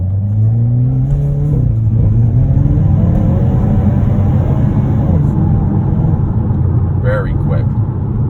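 A 2022 Hyundai Kona N accelerating hard while driving, its engine note rising and rumbling loudly and steadily throughout, heard from inside the car alongside a voice talking.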